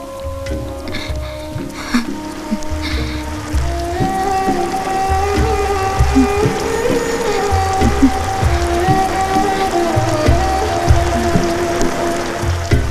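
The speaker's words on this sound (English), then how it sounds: "Yes, it's raining." Steady rain falls continuously beneath sustained tonal music in a film scene, with a dense, even patter throughout and no clear breaks.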